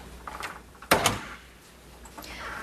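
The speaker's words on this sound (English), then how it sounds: "Dr. Pinter, could you close the door, please?" An office door swings shut with a sharp thump and a short rattle of the latch, fairly close, set between quiet room tone and faint movement.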